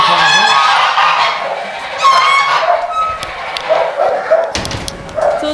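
Geese and other poultry honk repeatedly in a farm pen holding over 500 hens plus geese and other fowl, loud and close, with overlapping calls throughout and a dog-like bark mixed in.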